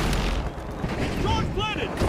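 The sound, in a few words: glitch grenade explosion in a video game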